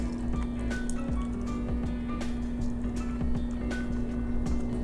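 Vegan taro root milk tea pours from a container into a cup of ice at a boba tea shop, with wet splashing, scattered clinks and trickles over a steady low electrical hum.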